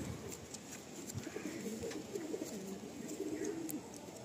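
Low, rolling coos from a male Madrasi pigeon, repeated in soft bursts at close range over a faint background hiss.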